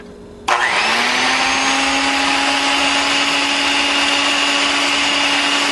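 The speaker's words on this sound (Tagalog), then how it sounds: "So i-whip lang natin ito using a handheld mixer." A handheld electric mixer switches on and whips cold cream for a dessert, a loud, steady motor whir with broadband beater noise that holds evenly from start to finish with no talking.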